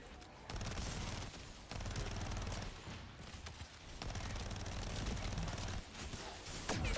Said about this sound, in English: Well, the Vestigial Organ is a fair gun, except in Glay's hands